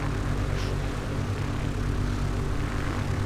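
Mooney Bravo propeller airplane on landing approach at Republic Airport, a steady, loud engine and propeller drone with low harmonic hum running continuously without a break.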